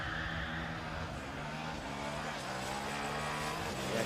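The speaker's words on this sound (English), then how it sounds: "That car off the start line," Formula SAE race car with an internal combustion engine pulling away from the start line, a sustained engine drone with shifting harmonics, fairly distant and steady, with faint crowd or ambient noise around it.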